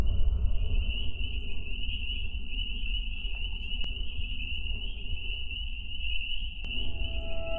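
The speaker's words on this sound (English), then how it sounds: "This familiar chirping of the peep frogs awakening and calling out their greeting" Spring peeper frogs call in a continuous high-pitched chorus across a New England evening in early spring, a steady shrill trill over low ambient rumble, with a few faint sharp clicks.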